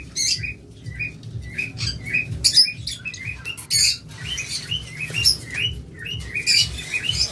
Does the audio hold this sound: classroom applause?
no